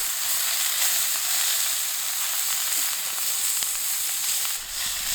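Mushrooms and onion sautéing in a pan inside a tiny home on wheels, a loud, steady broadband sizzle holding evenly throughout with faint crackles, no talking.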